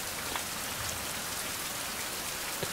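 Steady rain from the video game Survival: Fountain of Youth, a dense, even hiss of falling drops with faint scattered patters, continuous and alone for the whole stretch.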